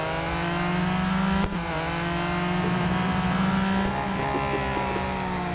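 Ford GT Le Mans race car engine in Real Racing 3, a loud steady high-revving drone held near, with a brief shift dip and smooth pitch changes as it holds speed, no talk over it.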